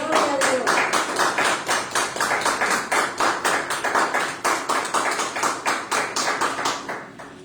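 A church congregation applauds in a steady, rhythmic unison clap, many hands beating together in a regular pulse that fades slightly at the end.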